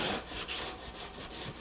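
Hand sanding a wooden charcuterie or cheese board with 150 grit sandpaper: brisk, close back-and-forth strokes make a soft, rhythmic rasping, about five passes a second, with no voices.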